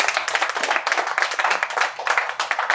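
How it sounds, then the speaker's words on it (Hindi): An audience at a debate competition claps in a rhythmic pattern, with pulsing waves of hand claps rising and falling steadily, close and fairly loud, with no voices over them. "तो एक बार उसके लिए भी आप तालियां बजाइए।"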